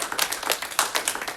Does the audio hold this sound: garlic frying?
no